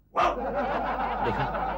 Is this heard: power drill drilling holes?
no